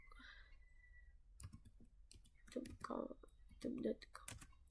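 Someone types a web address on a computer keyboard during a networking demonstration, with a short burst of clicky keystrokes mixed in with someone speaking over them.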